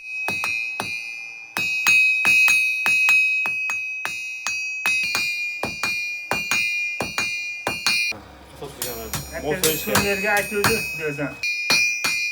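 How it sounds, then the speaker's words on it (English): Two people strike very hot iron with hard hammers while forging a knife: rhythmic metallic blows ring out one after another, sharp and close, with bright lingering tones and a brief stretch of louder clanging in the middle. "two people heat the iron very hot and hit it with a hard hammer"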